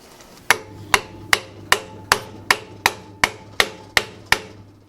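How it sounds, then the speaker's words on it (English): Ten sharp metallic hammer taps at a steady, even pace, each ringing briefly, with a low hum underneath, as a chuck is tapped onto the spindle of a WEN 4210 drill press. "use a hammer to tap it on the rest of the way"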